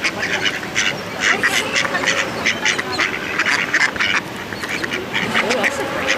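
Hungry ducks quack excitedly in a busy, overlapping chorus while being fed doughnuts alongside swans and a goose, the calls coming close and steady throughout with people talking in the background.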